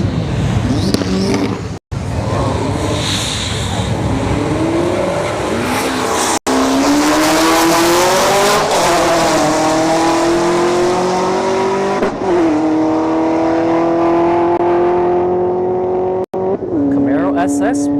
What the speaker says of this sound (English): Looks like we've got a Camaro. An SS Camaro and a Nissan Frontier.